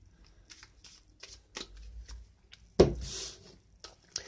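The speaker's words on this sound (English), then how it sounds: "I can just give it a rough shuffle" A deck of Onirim board game cards given a rough shuffle on a table: soft, close, quiet riffling and patter in short bursts, with one sharper snap of cards near the middle.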